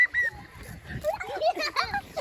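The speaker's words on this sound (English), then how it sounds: "Why she keep splashing us?" Water splashing in a pool, with short bursts of splatter mixed with children's shrieks and voices talking over the play.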